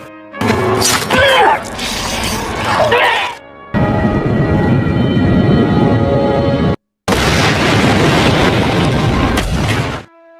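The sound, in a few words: helicopter explosion in a film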